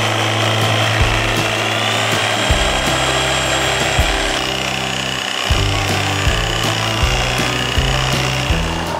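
A hand saw cuts through natural wood in a forest setting, a steady loud rasping stroke rhythm with regular back-and-forth pulses running throughout, no talking.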